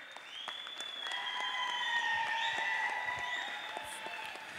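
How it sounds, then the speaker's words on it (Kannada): Loud applause from an audience at a large dance event in Belagavi, a dense wash of clapping that swells and holds for a few seconds before easing slightly. "ಜೋರಾದ ಚಪ್ಪಾಳೆ."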